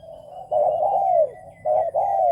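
A spotted dove coos in soft, rounded phrases, two drawn-out calls with a brief pause between them, clear and close against a quiet background.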